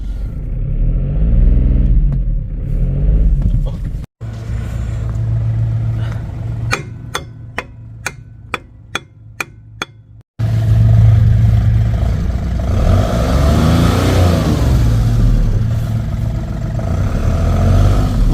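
A Mk1 Skoda Fabia 1.4 TDI engine with stuck brakes revs and strains at close range in long loud bursts, broken by a short run of sharp metallic hammer taps before the roaring resumes.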